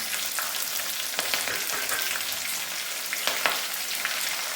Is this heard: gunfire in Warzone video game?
no